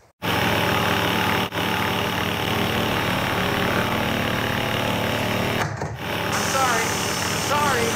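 A loud motorized tool whines and buzzes continuously up close, with a couple of brief cutoffs and a voice speaking over it near the end.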